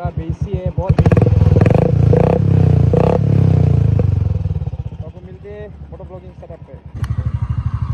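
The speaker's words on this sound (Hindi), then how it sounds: "गाइस आप सुन सकते हैं इसका एग्जॉस्ट नोट," Royal Enfield Classic 350 with an aftermarket exhaust, its deep bassy single-cylinder note throbbing at idle, rising in loud revs through the middle, then settling and blipping again at the end, with a voice talking over parts.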